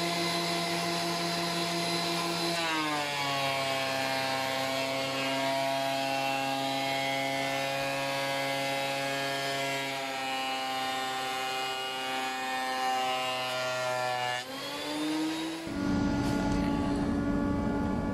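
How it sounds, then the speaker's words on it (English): A loud wood thicknesser whines steadily, its pitch dropping as a wooden board feeds through for planing, then rising again before the machine winds down. "put it through the thicknesser"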